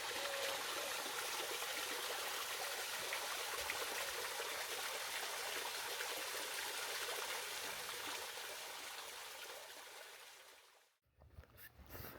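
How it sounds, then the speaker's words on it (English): Water cascading from Thatch House Pond down into Mere Pond at Calke Abbey, a steady soft hissing rush heard alone at a distance, fading near the end before a short break and a few knocks. "So that's the Thatch House Pond, with water dropping down into the Mere Pond."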